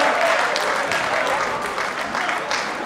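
An audience at a Kannada film event for Yuvarathna with Puneeth Rajkumar claps steadily and loudly throughout, a dense wash of applause with crowd noise mixed in.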